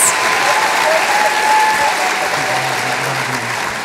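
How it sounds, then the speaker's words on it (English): Graduation audience applauding graduates of the Humphrey School of Public Affairs at a celebration of achievement, a loud, dense, sustained round of clapping that tapers slightly toward the end. "Please give one more round of applause from the graduates from the Humphrey School of Public Affairs."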